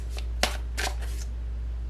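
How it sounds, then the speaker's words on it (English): Tarot cards being shuffled by hand, three or four quick riffling bursts close up over a low steady hum, no talking. "You guys just saw me shuffle, okay?"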